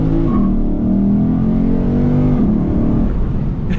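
A stock Lexus IS 500 F Sport with only its resonator deleted growls as it revs and pulls away, a loud deep engine note rising and holding close by.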